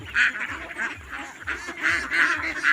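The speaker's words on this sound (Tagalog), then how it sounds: "i-enjoy lang natin yung pagbabantay natin ng ating mga alagang itik" Domestic ducks kept in a flock quack repeatedly in bursts, close and overlapping, with a steady murmur of birds behind them and no talk.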